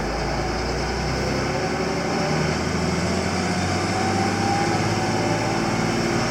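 Tractor engine running a Krone 1290 Big Pack baler, a steady droning hum at constant speed, loud and close, with no clear rise in pitch.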